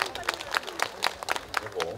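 Scattered audience clapping at an outdoor tea culture festival at a temple, a steady patter of many hands with irregular sharper claps, moderately close, without talk over it.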